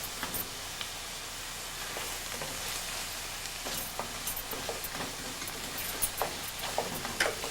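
Steady sizzling of onions and sausage sautéing in butter in a pan, with faint scattered ticks and scrapes, continuous and fairly quiet.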